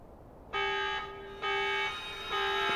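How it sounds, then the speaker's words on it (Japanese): Electronic alarm tone blaring in three loud, sustained bursts with brief gaps, sounding during a Xenoblade Chronicles video game cutscene as a Telethia attack begins. "この警報は？"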